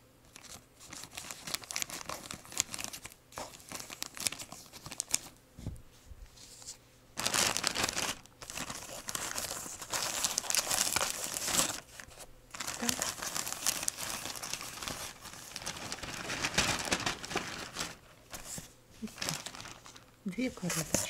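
A parcel's packaging is torn and opened, with steady crinkling, crumpling and ripping of paper and plastic that runs through the whole stretch and rises in louder bursts, while someone talks at times over it.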